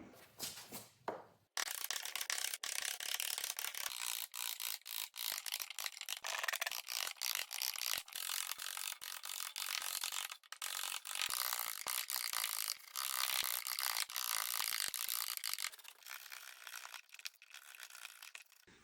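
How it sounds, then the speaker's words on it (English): Hand chipping of wood, a continuous close run of scraping, crunching and rubbing strokes with a rough, uneven rhythm, fairly quiet overall. "we need to chip these all out"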